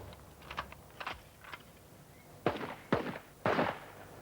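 Rifle fire during army training with a shooter in prone position, a series of sharp bangs, the last three louder and spaced evenly about half a second apart after softer earlier reports, with no talk.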